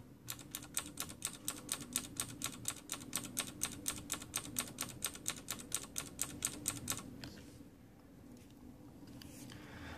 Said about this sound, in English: here is the Cherry MX blue